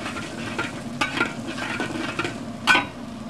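Ginger, garlic and green onions fry in a hot pan, a steady close sizzle broken by several brief scraping stirs, with one sharper burst near the end; no one speaks.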